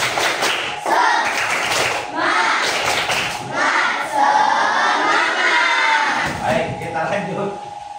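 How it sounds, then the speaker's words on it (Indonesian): A crowd at a religious gathering joins in rhythmic spirit clapping, a dense, steady wash of hands with voices chanting and shouting throughout. "Tepuk semangat."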